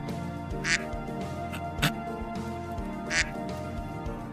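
Two short nasal quacks from a cartoonish duck, a couple of seconds apart, over a steady background hum with a few clicks.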